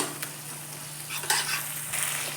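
A spatula stirs fried spice masala with a pinch of kasuri methi in a pan for jackfruit curry, with steady close sizzling broken by a few scraping strokes, and no voices.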